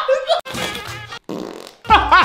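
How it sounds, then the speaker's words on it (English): Loud flatulent blasts in a cramped space, a harsh buzzing burst followed by a shorter rasp, with excited voices breaking in between and after. "the fart is gonna kill us all!"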